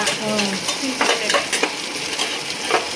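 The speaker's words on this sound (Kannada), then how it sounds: "ಇದೊಂಚೂರು ಶುಂಠಿ, ಬೆಳ್ಳುಳ್ಳಿ ಹಾಕೊಂಡಿದ್ದೀರಲ್ಲ, ಒಂಚೂರು ಫ್ರೈ ಮಾಡ್ಕೊತಿದ್ದೀವಿ." Ginger and garlic frying in a pan for a country chicken curry, a steady close sizzle with spoon stirring scrapes scattered through it, no talking.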